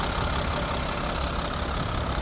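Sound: Mercedes-Benz Sprinter three-litre engine running

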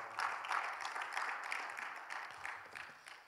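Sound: audience applause

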